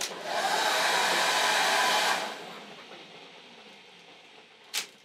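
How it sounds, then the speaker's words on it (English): A hair dryer powered by a Jackery Explorer 2000 Plus portable power station blows with a loud steady whoosh for about two seconds, then cuts out and winds down, followed by a brief click. "Now the hairdryer,"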